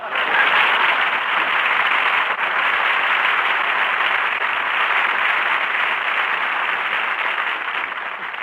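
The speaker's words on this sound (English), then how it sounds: "Jack Benny, applause." A studio audience at a Jack Benny radio broadcast applauds, a steady, band-limited wash of clapping from a large crowd, even and sustained for the whole stretch with no talk.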